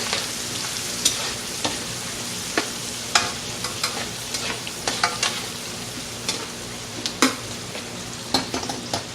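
Minced ingredients get worked into a pot of collard greens, a continuous scrape-and-stir texture with a low simmering hiss and scattered clinks of a utensil against the pot, close and steady, no speech.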